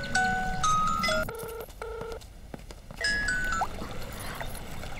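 A telephone is dialed in a Kannada film scene: two steady paired keypad tones sound in quick succession, loud and close, framed by background music before and after.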